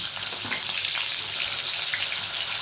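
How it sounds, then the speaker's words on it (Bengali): A fish head fries in hot oil, giving a steady, close, bright sizzle that holds evenly throughout with faint crackles and no voices. "মাথাটাকে আমি ভালো করে ভেজে নেব"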